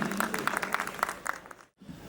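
An audience at a poetry gathering during a literature festival in Almora gives a brief round of applause welcoming a poet to the mic, fading to a sudden hush.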